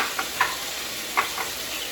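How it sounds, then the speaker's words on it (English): Ground lamb browning in a pan and being broken up with a spoon, a soft steady sizzle with a few short scraping clicks of the spoon. "So even though it's ground lamb, you do want to break it up. It makes it a lot easier to break it up with your spoon."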